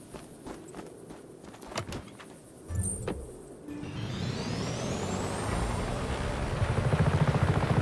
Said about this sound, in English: This chopper, fratre!